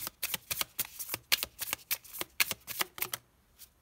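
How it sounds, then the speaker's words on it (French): Cards from an oracle deck are shuffled and drawn, a quick run of crisp riffling snaps and flicks in irregular bursts, close and fairly soft, trailing off near the end. "on va prendre une petite carte de cet oracle"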